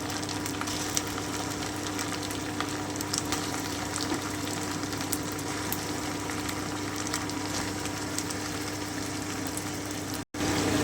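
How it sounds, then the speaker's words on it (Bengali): Marinated chicken for hariyali chicken fries in a pan, an even, fairly loud sizzling hiss holding steady throughout with faint crackles and a brief break near the end. "এবারে আমি ম্যারিনেট করা চিকেনটা দিয়ে দিচ্ছি।"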